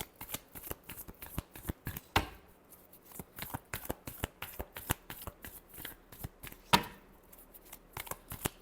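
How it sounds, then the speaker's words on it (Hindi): A tarot deck is shuffled by hand at close range: rapid, dense flutters of card-on-card slaps in steady bursts, with two louder riffle cascades and no talking. "और मैं कार्ड शफल करती हूँ।"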